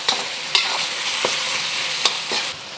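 Ground beef frying in a stainless steel pan gives a steady close sizzle, broken by a few sharp scrapes and clacks of stirring.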